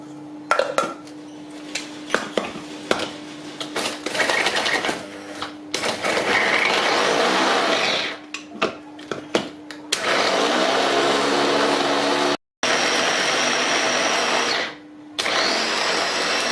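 A blender whirs loudly in several bursts, mixing lemon juice and honey, starting and stopping with brief clinks and pauses between runs, then running long and steady.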